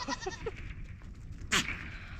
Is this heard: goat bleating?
yes